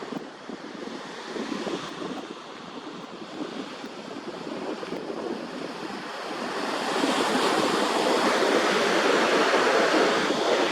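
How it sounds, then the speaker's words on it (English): Ocean waves about four to five feet high break near the Cherry Grove Fishing Pier in North Myrtle Beach, South Carolina, a steady roaring wash of surf that swells louder toward the end, with wind buffeting the microphone. "These are about 4 to 5 foot waves."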